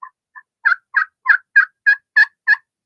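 Turkey pot call worked with a striker, a string of nine crisp yelps, two soft opening notes and then seven louder evenly paced clucking yelps, close and clear against silence.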